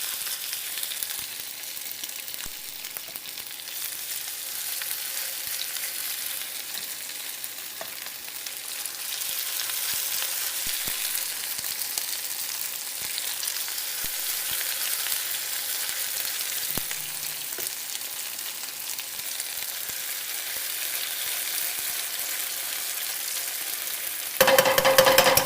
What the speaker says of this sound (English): Our oil is hot, and we're going to scoop them out and fry them up.